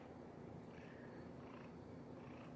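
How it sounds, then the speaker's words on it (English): Imhotep the cat purrs softly and continuously, a low, steady rumbling hum heard close up and alone at a quiet level. "Are you purring?"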